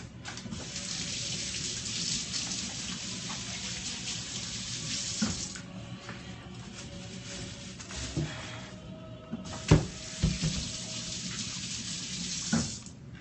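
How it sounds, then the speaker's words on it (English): Hands being washed under a running tap at a sink, a steady close rush of water with brief splashes and clunks as the hands move through the stream. "Wash hands one more time"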